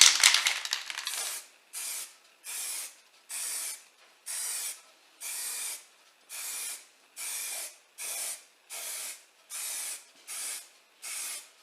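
A spray can of paint hisses in a dozen short, regular bursts with brief pauses between, close and fairly loud, after an initial rattle, coating a Range Rover L322 cup holder part.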